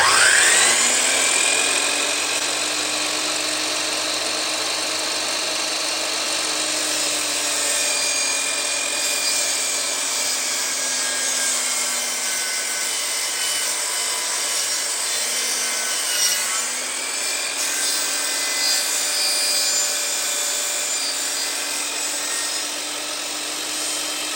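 A saw cuts fast through wood for a stair newel post, a loud, steady rasping drone close by that keeps going with little let-up, briefly dipping in pitch partway through.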